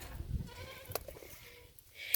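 A farm goat bleats in short, wavering calls over a noisy outdoor background of livestock and handling sounds, fairly near.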